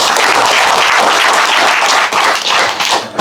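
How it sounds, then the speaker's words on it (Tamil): A crowd at a farmers' gathering on cattle foot-and-mouth disease claps loudly and vigorously, a close, dense burst of handclaps that dips briefly near the end before surging again. "ஜோரா கைத்தட்டுங்க உங்களுக்கு."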